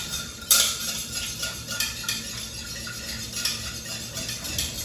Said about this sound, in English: now I'm going to whisk this together till I break down all